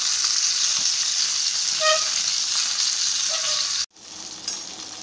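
Spicy fish frying in a pan over a high flame, roadside Karachi style, giving a loud, constant close-up sizzle that cuts off sharply near the end before resuming more quietly.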